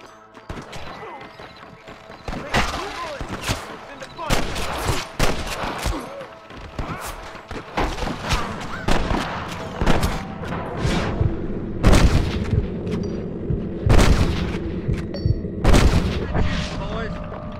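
Gunfire in the Western video game Red Dead Redemption, a series of loud, sharp shots and booms fired irregularly over several seconds, mixed with background game music and ambience.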